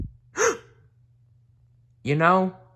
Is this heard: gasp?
yes